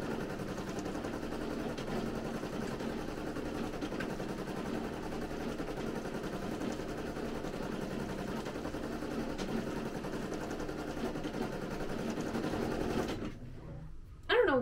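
A domestic sewing machine runs in a steady, continuous mechanical whir while stitching fabric, holding an even drone close by before stopping abruptly near the end.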